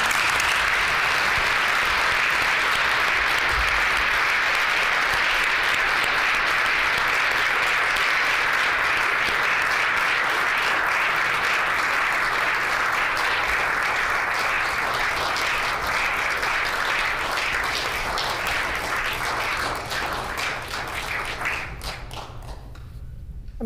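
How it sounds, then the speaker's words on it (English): An audience in a House legislative chamber gives a long, sustained round of applause, dense many-handed clapping that stays loud for about twenty seconds before thinning and tapering off at the end. "I ask everyone to please join me with a round of applause to show our appreciation and our gratitude."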